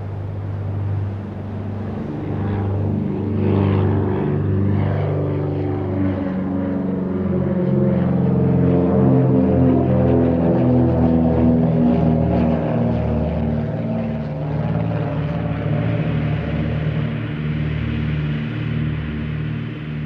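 A small American aircraft with a five-cylinder radial engine drones loud and steady, its propeller hum holding close and continuous throughout with slight pitch shifts and no voices.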